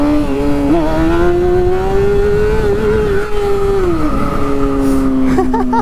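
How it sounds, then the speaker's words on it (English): A Honda CBR 600RR motorcycle revs hard and close, the engine note climbing and wavering as it accelerates for a wheelie, loud and continuous throughout before easing off slightly near the end. "Should we try a wheelie here?"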